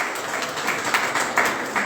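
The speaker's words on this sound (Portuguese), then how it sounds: "Você pode dar mais um aplauso forte para Jesus?" A church congregation claps together for a few seconds. The applause is steady and moderately distant, with faint crowd noise beneath it.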